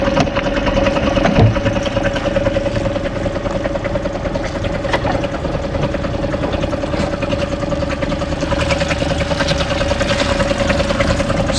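A Mercury 90 hp outboard motor idles steadily and loudly close by, its even mechanical hum holding through the whole stretch with no talk over it.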